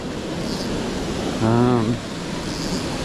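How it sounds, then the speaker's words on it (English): A waterfall on a trout creek roars as a steady broadband wash, with a short hummed or voiced tone rising briefly over it partway through. "we got a waterfall here"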